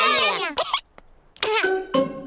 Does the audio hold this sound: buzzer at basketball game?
no